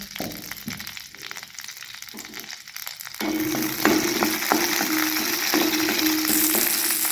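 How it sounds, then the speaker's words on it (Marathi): Garlic and green chillies fry in half a ladle of oil while tomato chutney is made, giving a steady close sizzle with faint stirring scrapes and clinks; the sizzle gets louder and fuller partway through. "अर्धी पळी तेल टाकले आणि आपले लसूण आणि हिरवी मिरची दोन्ही भाजून घ्यायचे"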